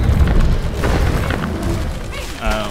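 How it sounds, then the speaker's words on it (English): Magic bombs exploding in the video game Magicka, heard as loud, deep rumbling booms that are strongest at the start and trail into a softer rumble, with some game noise layered on top. "I like those bombs a lot more though"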